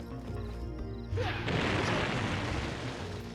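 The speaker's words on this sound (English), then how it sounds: "all that's left is to throw that bomb at that barricade" A bomb blasts through a barricade in the video game Star Fox Adventures, a loud burst that rolls into a broad, sustained crashing roar after a brief musical passage.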